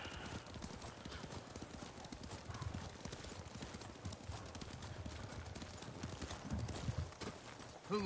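Steady clip-clop of armored horse hooves trotting in the video game Ghost of Tsushima: Director's Cut, with a brief whinny near the end and faint background voices.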